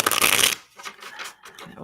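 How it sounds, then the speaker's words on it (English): Tarot cards riffled in a loud, dense burst of papery shuffling for about half a second, then scattered softer card rustles and taps close by. "Let me give it one more shuffle."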